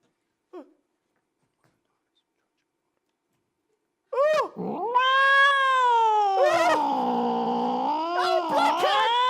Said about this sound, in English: Black cat! Oh my God!